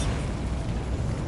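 A Bombarda blasting spell goes off in Hogwarts Legacy as a short, dense, rumbling explosion. It stays loud and boomy through its whole brief length, with no voices.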